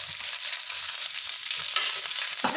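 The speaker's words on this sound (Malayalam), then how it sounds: "ആദ്യം തന്നെ നമ്മൾ എടുത്ത് വെച്ചിരിക്കുന്ന വെളുത്തുള്ളി ഇടുക, പച്ചമുളക്, വേപ്പില, ഉള്ളി എല്ലാം കൂടി ഇടുക" Garlic, green chili, curry leaves and onion fry in a pan for beetroot stir-fry, a brief steady sizzle up close with soft spatula stirring and scraping, no talk.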